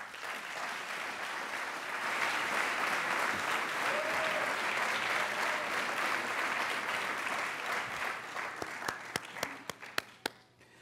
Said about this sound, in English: why don't we give a round of applause to our first three honorees, Raphael Gordon, Thomas Johnston,